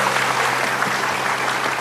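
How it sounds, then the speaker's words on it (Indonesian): A studio audience on an Indonesian morning TV show gives a brief round of applause, dense and steady clapping close by throughout. "Nah, tepuk tangan dong buat Adul"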